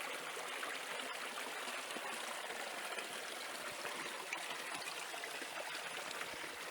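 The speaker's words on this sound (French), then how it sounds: "l'endroit de la source. On peut voir qu'elle coule bien." Clear spring water flowing from its source in the hills of Allauch, a steady close trickling and gurgling stream with no voices.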